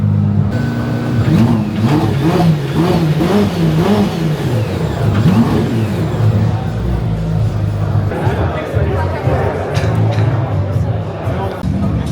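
A loud exhaust burbles and revs in repeated rising and falling pulses, close by, with crowd chatter underneath.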